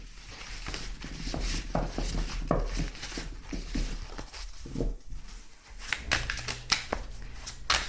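Tarot cards being shuffled at close range in a quiet fortune-telling session, soft riffling and tapping with papery slides and a few sharper clicks toward the end.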